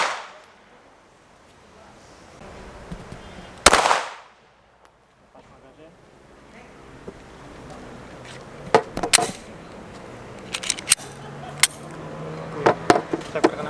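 Gunshots ring out during shooting practice: one loud close blast followed by a string of sharper cracks and clangs further on, with quiet stretches between.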